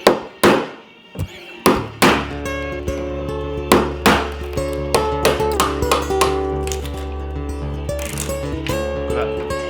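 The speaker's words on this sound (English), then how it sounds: "So I just finished chiseling out this bit 2x1 that was here, that was all rotten" A chisel is struck repeatedly to cut rotten pine out from under fiberglass on a boat, giving sharp, close, irregular knocks and thunks with ringing tool tones between strikes.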